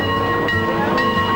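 A Mount Rainier Scenic Railroad steam train rolls past with a continuous loud rumble and steady tonal whine, close and unbroken, with no speech.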